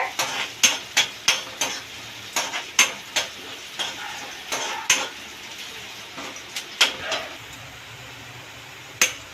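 Onion frying in oil in a pan while cooking a ridge gourd curry, a soft sizzle beneath repeated sharp clinks and scrapes of a spoon stirring against the pan in a steady rhythm.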